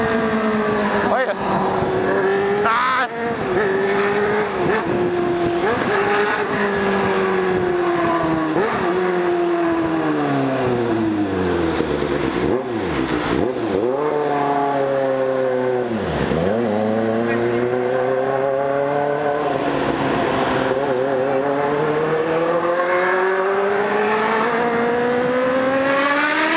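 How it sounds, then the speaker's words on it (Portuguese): A loud motorcycle exhaust revs repeatedly, pitch climbing and dropping in sharp swoops, close and dominant for the whole stretch. "acho que aí pegou a moto do Pedro"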